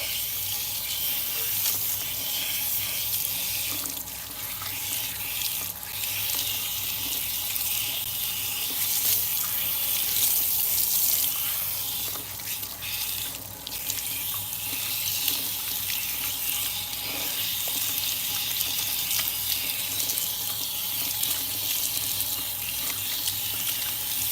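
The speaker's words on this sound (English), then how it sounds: "I'm going to go ahead and rinse my hair. This is cold water." Cold water runs steadily from a tap while hair is rinsed beneath it, a continuous broadband gush and splash holding an even level throughout with no talk over it.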